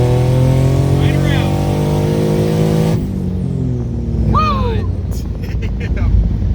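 A turbocharged Ford Mustang S550 with a 3.7L V6 on a single dual ball bearing turbo pulls hard, its engine note rising steadily and loud for several seconds before shifting, with excited voices talking over it.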